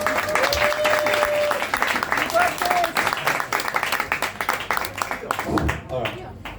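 A comedy-club audience at an English stand-up gig breaks into lively applause, bursts of many hands clapping that rise and then gradually thin out toward the end.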